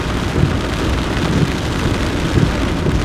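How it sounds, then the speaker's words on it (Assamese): Heavy rain pours down on a hilltop, a steady, loud, dense wash of noise with occasional stronger gusts and low rumbles, no voices. "দেখিছে কিমান বৰষুণ দিছে ইমান ডাঙৰ বৰষুণ"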